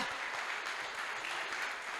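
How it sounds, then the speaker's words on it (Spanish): Dense, steady applause from a church congregation fills the whole stretch at an even level, with no voice over it. "Dale un aplauso al Rey de Gloria."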